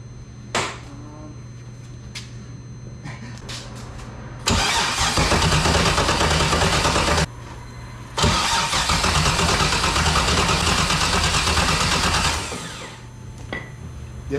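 A BMW E46 fitted with a swapped LS6 V8 cranks and fires loudly, runs briefly, cuts out, then restarts and holds a rough, steady idle for several seconds before dropping off, with a few clicks and voices around it.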